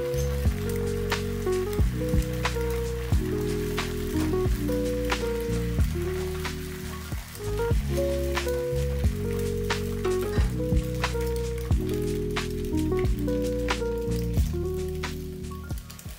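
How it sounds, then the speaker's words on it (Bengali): Beaten egg sizzles in a hot pan with a paratha laid on top for a Kolkata-style chicken egg roll, a steady close frying hiss running throughout beneath background music. "পরোটাটা তুলে নিয়ে ফেটিয়ে নেওয়া ডিম দিয়ে দেব।"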